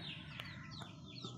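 Two black hens cluck faintly and intermittently in a quiet yard, their soft calls sitting under a low steady background hum.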